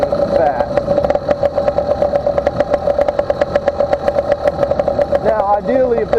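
A motorized bicycle engine with a stock intake runs close by at a steady, moderate buzzing pitch, pulsing quickly and evenly, with a voice heard over it near the end.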